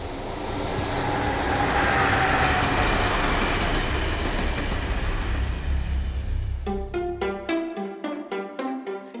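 A passenger train on Norway's Bergen Railway rolls past loudly with a steady broadband rumble, then the wheels settle into a distinct rhythmic clickety-clack over rail joints as the sound thins out near the end.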